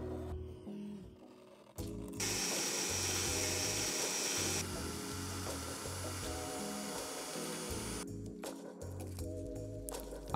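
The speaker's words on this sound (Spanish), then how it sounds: "marcamos y taladramos cuatro agujeros en las esquinas." A power drill whines as it bores holes into MDF board, running for several seconds in bursts between quieter pauses, close and loud.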